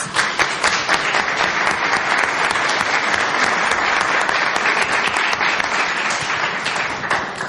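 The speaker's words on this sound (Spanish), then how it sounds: "Pido un aplauso para Cecilia Salame Hernández." Sustained, loud applause from an audience at a cultural event, steady clapping that carries on for several seconds without pause.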